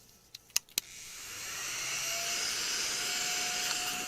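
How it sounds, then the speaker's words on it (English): Small new handheld vacuum cleaner sucking up debris, a few sharp clicks as it switches on, then a steady high-pitched whirring hum that holds at an even level. "look at my new little vacuum"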